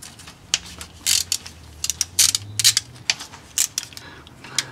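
A ratchet clicks in quick bursts while loosening 10 mm bolts on the automatic transmission oil pan of a Chevy Monte Carlo or Impala, close and fairly loud, with short pauses between rapid sets of clicks.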